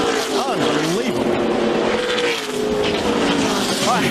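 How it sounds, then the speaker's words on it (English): NASCAR race cars at the final corner of the Racing Experience 300 scream past with rising and falling engine whines and squealing tires amid a heavy crash, loud and close, with a commentator talking over the roar. "A heavy crash in the final corner of the race"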